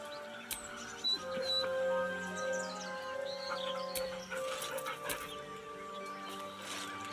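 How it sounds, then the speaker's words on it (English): In Baldur's Gate 3, a dog gives soft, drawn-out whines, faint beneath quiet game ambience with scattered small clicks. "He whines, but remains rooted by the corpse's side."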